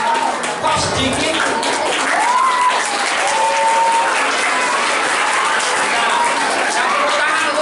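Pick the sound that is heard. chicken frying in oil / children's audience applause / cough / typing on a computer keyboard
children's audience applause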